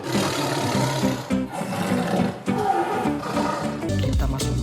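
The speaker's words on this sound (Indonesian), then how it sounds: "Nah, ada hewan macan tutul juga." A leopard roar plays from an animal toy, loud and sustained for several seconds with growling pulses over a dense, busy background.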